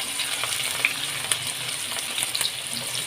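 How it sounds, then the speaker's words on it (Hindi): Roughly cut medium onions fry in hot oil in a pan for a chicken curry, giving a steady, soft crackling sizzle with scattered little pops and occasional stirring, close by and with no talking. "2 मीडियम साइज़ की मैंने ली है प्याज, उसको रफली कट कर लिया है, वो इसमें डाल देंगे और प्याज को हम हल्का सा गोल्डन करेंगे।"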